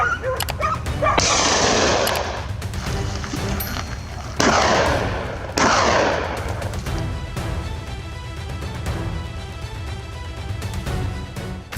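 A hunting dog barks and whimpers during a wild hog hunt in Louisiana pine woods, with bursts of loud activity near the start and middle, then steady busy outdoor noise; gunfire may mix in.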